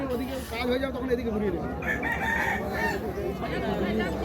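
Roosters at a cockfight held during a school's 75th anniversary celebration, with crowing and clucking over steady crowd chatter in an outdoor gathering.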